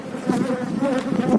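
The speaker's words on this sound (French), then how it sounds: "c'est en fait la ruche bourdonneuse" A hive of bees hums loudly up close, a dense continuous buzzing from many insects swarming together.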